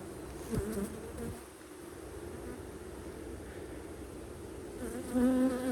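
Honey bees drone steadily from an opened backyard hive, a soft continuous buzz with a few louder passes of individual bees close by and a brief higher whine near the end.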